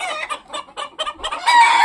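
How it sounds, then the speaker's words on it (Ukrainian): Hens cluck inside a henhouse in a busy, agitated chorus of short overlapping calls, close by and steady, rising into a louder squawk near the end. "Курей вже погодували, кури пішли спати, щось там якийсь переполох уже в будиночку"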